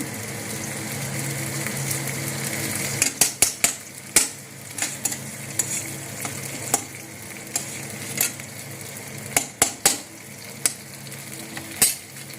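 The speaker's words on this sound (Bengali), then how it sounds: "এবার আমি এর উপর ঘি দিয়ে দিব।" A spice paste fries in ghee in a pan for a Bengali soybean curry, with a steady loud sizzle broken by repeated sharp clicks and scrapes of a spoon stirring against the metal.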